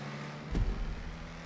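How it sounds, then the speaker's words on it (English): A low engine rumble swells briefly, then holds steady as a droning hum with a faint tonal whine, like a car idling and revving; an Emperor Vectre in GTA 5 Online. "I like the engine sound."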